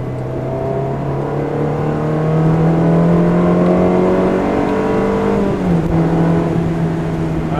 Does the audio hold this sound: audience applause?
no